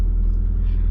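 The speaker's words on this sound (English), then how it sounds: "Okay, so we're going to start the car right now." A 1993 Mazda 323 with a 1.6 carburetor engine running just after starting, a steady low rumbling idle that is close and loud, with no talk over it.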